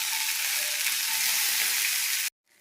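Green chilli pieces and mustard seeds fry in hot oil, a loud, dense, steady sizzle that runs unbroken for about two seconds and then cuts off abruptly into near silence.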